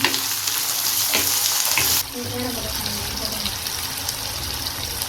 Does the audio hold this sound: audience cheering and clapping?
no